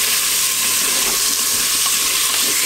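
Tomato paste being stirred into a sizzling sauce in a pan, a steady loud frying hiss throughout with faint scraping of the spoon.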